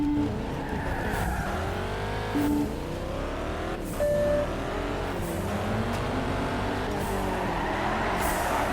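Cars race and drift in the video game Juiced 2, engines revving continuously with rising and falling pitch, tires squealing through long slides, loud and steady with no talk.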